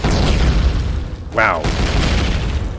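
Continuous low rumbling booms of nuke-style explosions roll through the Empyrion Galactic Survival game world, loud and dense, with a short exclamation from a player breaking in midway.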